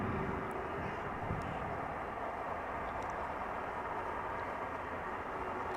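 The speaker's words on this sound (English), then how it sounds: "A320neos arriving." An Airbus A320neo arriving at Amsterdam Schiphol Airport makes a steady, faint, distant broadband roar, continuous throughout with no voices.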